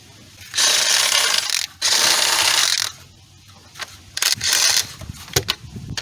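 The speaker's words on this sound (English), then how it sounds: "turning it with the ratchet" A ratchet clicks in several quick bursts while turning a 14 mm nut on a Toyota Sienna engine during engine removal, with short pauses and faint clinks in between.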